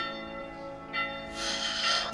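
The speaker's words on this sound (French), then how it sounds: "C'est dimanche, alors il y a beaucoup de bruit de cloches." Church bells ringing on a Sunday, a steady layered peal with sustained tones that swells brighter partway through, heard at moderate distance with no talking.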